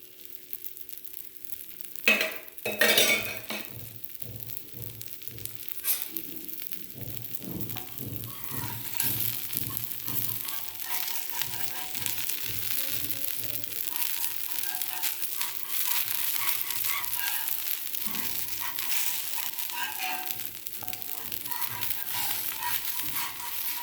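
Chickpea dosa batter fries in a little oil in a pan, a steady close sizzle with a series of rhythmic scraping and tapping strokes early on, then an even crackle carrying through to the end.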